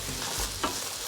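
Chinese spice being stirred into a pot of Guyanese cook-up rice with black-eyed peas makes a brief close scrape and rustle over a soft, steady hiss, with no voices.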